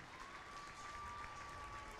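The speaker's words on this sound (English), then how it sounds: "How about another round of applause for our all-region team?" A crowd at a boys basketball championship gives a round of applause for the all-region team, a faint, distant and steady patter of clapping with a thin tone running through it.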